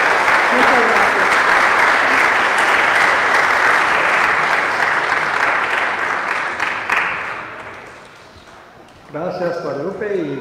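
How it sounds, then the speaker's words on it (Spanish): Loud, dense applause from a church congregation at a Sunday Mass, sustained for about seven seconds before fading out, followed by a voice beginning to speak. "Hay que darle un fuerte aplauso a Carol por su ayuda y a ustedes por toda su generosidad"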